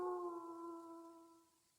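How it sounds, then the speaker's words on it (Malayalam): A dog's long, drawn-out howl sounds distant and faint in the quiet, holding a steady tone before trailing away, in an eerie night setting. "ദൂരെ എവിടെയോ നായ്ക്കൾ കൂട്ടമായി കൂവി."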